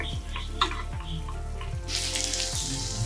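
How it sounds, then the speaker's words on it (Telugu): Eggs frying in a pan seasoned with turmeric and salt: a continuous close sizzle with rhythmic spatula scrapes, swelling into a brighter, louder hiss in the final second. "ఎగ్ ఫ্రై చేసుకోవాలండి."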